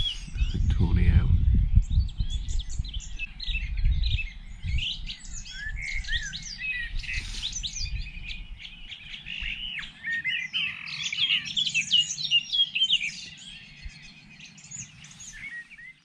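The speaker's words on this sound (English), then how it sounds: "this appears to be a dawn chorus with an owl in it" Many birds chirp and sing in a dawn chorus on the South Downs, a dense layer of bright calls throughout, with some low rumble and rustling near the start; no owl stands out clearly.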